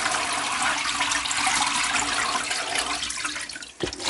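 Acid solution drains steadily down during gold recovery from RAM sticks, a continuous rushing, gurgling flow of liquid that eases off near the end, with no voices.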